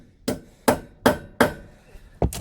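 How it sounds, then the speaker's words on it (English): A hammer strikes a screw extractor into a broken bolt on a John Deere front end loader: five sharp metallic whacks at a steady beat, close and alone, with a sixth quicker tap at the end. "So I'll note that when I hammered that in"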